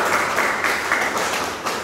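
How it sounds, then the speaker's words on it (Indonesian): A group in a classroom or seminar claps for a presenting team, a brief, even burst of hand claps from a modest number of people, fairly close and without speech. "tepuk tangan dulu untuk kelompok"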